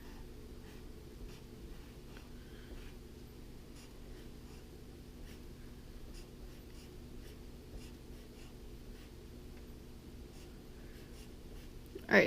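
Small squares are drawn on a board, producing faint, steady scratchy pen strokes that run continuously at low volume with a quiet background hum and no talking.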